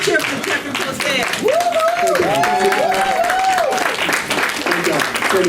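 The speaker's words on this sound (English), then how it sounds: "let's give him a round of applause" A crowd at a Black History celebration in a bookshop gives a standing ovation, sustained clapping mixed with cheering and whooping voices, with a person talking over the applause.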